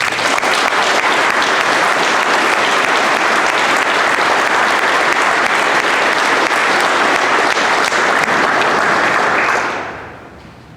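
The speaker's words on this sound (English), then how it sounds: "I offer a round of applause as recognition of the instructor cadre's tireless efforts." Sustained audience applause at a fire department graduation ceremony, a loud dense wash of clapping that holds steady for about nine seconds before quickly dying away.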